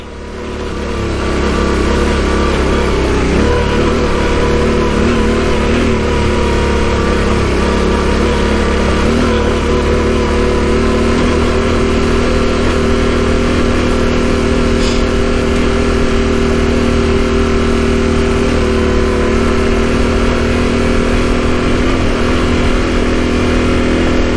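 Adventure motorcycle climbing a gnarly uphill trail in first gear, its engine droning steadily and loudly at close range after a brief start, holding a low, even pitch with slight wavering revs for the whole ride.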